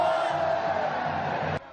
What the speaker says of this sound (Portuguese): a torcida do São Bento até gritou olé